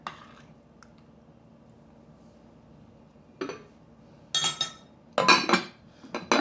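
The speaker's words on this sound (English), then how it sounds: "Get our spoon. Get it all mixed together." A spoon mixes frittata ingredients in a dish, with a faint clink early on and then bursts of scraping and clattering against the dish, growing busier and louder toward the end.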